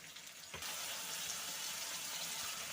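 Water pours steadily into a cooking pot of spiced potato and drumstick curry after a spice bowl is rinsed, a continuous close splashing hiss that starts abruptly and fills the clip.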